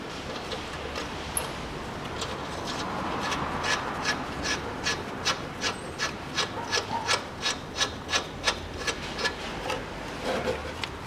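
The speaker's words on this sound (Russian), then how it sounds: "Вставляю фиксатор со второй стороны и закручиваю гайку." Tightening a nut with a hand tool on a Peugeot 407 1.8 engine during reassembly after a timing belt snapped: a steady run of evenly spaced ratcheting clicks, close and fairly loud, building in rhythm over a rough rubbing background, with no talk.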